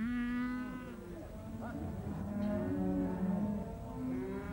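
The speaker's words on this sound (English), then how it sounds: "Any sale of young cattle tells its own story." Young cattle at a cattle sale in Connacht, Ireland, giving several long, loud moos in succession, some overlapping, with livestock background noise.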